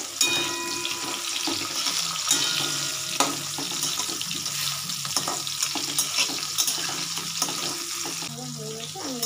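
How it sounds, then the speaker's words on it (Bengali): Vegetables for a mung dal and vegetable khichuri fry in a pan with spices and turmeric, giving a steady, close crackling sizzle with occasional sharp pops and scrapes. "এটা আমার ভাজা ভাজা হয়ে আসছে।"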